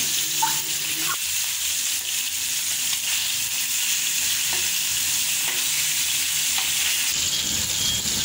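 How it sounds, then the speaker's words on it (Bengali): Pieces of hilsa fish fry in a pan with a loud, constant hiss and crackle of hot oil, heard up close. A few soft utensil knocks sound under the sizzle, which shifts slightly near the end. "মাছগুলো ভাজা হয়ে গেছে"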